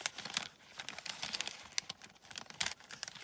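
Scissors cutting through a kraft paper pouch, giving a run of crisp, crinkly snips and rustles at close range, irregular and fairly quiet, with no voices.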